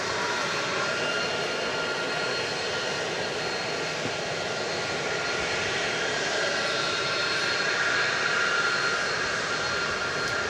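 A Martinair Cessna 208B Super Cargo Master cargo plane at DFW Airport at night, its engine giving a steady, continuous broadband drone that holds even for the whole stretch without talk.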